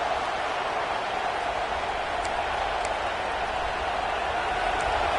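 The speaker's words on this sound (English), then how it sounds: "This crowd, full throat, splitting the eardrums" A football stadium crowd roars in one loud, unbroken wall of sound that holds steady from start to finish with no voices standing out.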